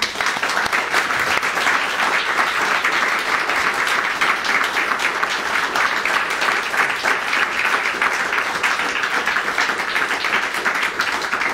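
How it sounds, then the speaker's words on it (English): A large audience at a live SNP leadership debate in Edinburgh breaks into loud, sustained applause, a dense wash of clapping that holds steady from start to finish with no talk over it. "I think they all do deserve a huge round of applause"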